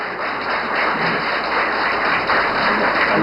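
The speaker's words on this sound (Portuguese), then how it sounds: "Ouça os aplausos lá de Brasília, pode subir o som." Steady applause fills a Senate committee session room in Brasília, a continuous patter of many hands clapping at moderate distance for a few seconds, with a faint tonal hum underneath.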